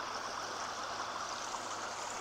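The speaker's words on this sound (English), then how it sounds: "Water that feeds down into Lake Crescent" A steady, even rush of flowing water, like a nearby stream feeding into Lake Crescent, continues without pause and with no voices.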